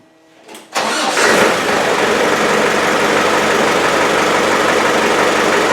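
After a quiet moment, a Land Rover 110 engine cranks briefly, catches and roars to life, then settles into a loud, steady run close by.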